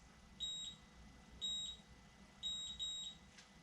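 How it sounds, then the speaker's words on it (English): A GlamTouche cordless auto hair curler beeps in short, high electronic tones, four quiet beeps spaced about a second apart against a soft background hum. "it'll beep 8 times telling me that it's 8 seconds"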